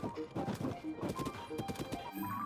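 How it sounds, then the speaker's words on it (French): A horse's hooves clip-clop at a quick, steady pace in Zelda: Tears of the Kingdom, quiet and mixed with busy in-game background sound. "c'est quelqu'un qui est à cheval"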